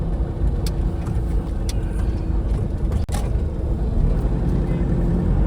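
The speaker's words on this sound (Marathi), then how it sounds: "गाड्यांच्या रांगाच रांगा" Queued cars and an Innova crawling in a traffic jam on the road just past the Kashedi tunnel on the Mumbai to Konkan route, a constant dense engine and road rumble with a brief dip.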